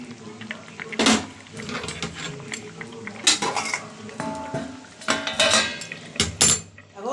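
A metal lid goes onto a pot of thin bata fish curry with potatoes after the gas is turned low. Several close, sharp clanks and clinks of metal cookware come in quick bursts.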